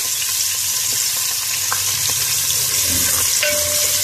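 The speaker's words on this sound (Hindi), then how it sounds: "ऑयल डाल दिया था, गरम हो गया, ये एक तेज़पत्ता, ये इसमें डाल देते हैं।" Chopped onion and a bay leaf frying in hot oil, a loud, steady sizzle close up with a few faint clinks of a utensil against the pan.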